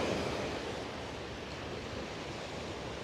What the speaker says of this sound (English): these waves are seriously rough